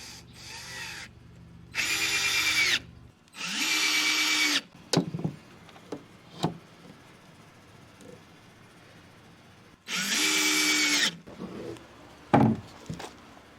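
A power drill drives screws into a wooden board for a simple camper bed, whirring in several loud, sustained bursts a second or so long, separated by sharp knocks and handling clatter.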